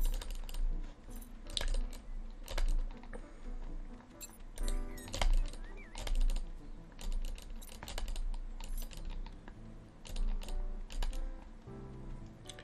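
Keys jangling as a goose grabs them in Untitled Goose Game: bright metallic clinks and rattles come in irregular clusters over soft ambient background, moderately close, with no talking.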